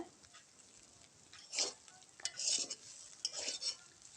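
Cauliflower florets fry in a pan and get stirred now and then, with quiet sizzling punctuated by several short bursts of scraping and clatter from the spoon against the pan.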